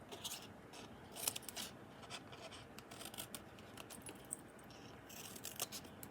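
Scissors snipping through card for a handmade card box, a quiet run of crisp, close cuts and rustles in an otherwise still room, no talking.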